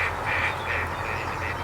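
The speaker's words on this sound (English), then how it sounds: "And gadwall are a lovely duck." A gadwall duck calls on a farm lake, a rhythmic series of nasal quacking notes repeated steadily for under two seconds, moderately close against outdoor ambience.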